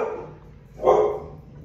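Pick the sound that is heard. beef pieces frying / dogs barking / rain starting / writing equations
dogs barking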